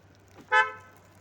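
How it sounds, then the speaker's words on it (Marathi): A car locking with a single short remote horn toot, brief and moderately close against a quiet background. "लॉक करा गाडी."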